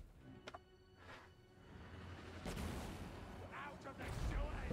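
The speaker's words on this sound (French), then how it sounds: "il y a mon canon qui continue de tirer dessus" Cannon fire from an artillery unit in the strategy video game Warhammer 3, heard as several booming shots with broadband bursts over a busy battle background, with a voice talking.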